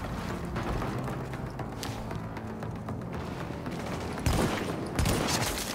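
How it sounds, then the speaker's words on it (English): Enemies opening fire in The Division inside the Lincoln Tunnel, a constant clatter of distant shooting that builds to two loud, close bursts near the end, no speech. "Oh, they're shooting my people."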